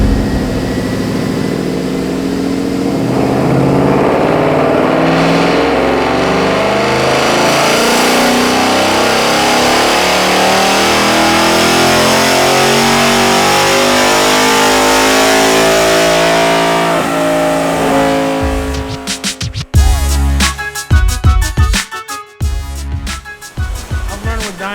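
A stock 5.0 Ford Mustang V8 on a chassis dyno revs loud and close, climbing smoothly through a long sustained pull for about twenty seconds, then dropping off into rough, choppy throttle blips and idle.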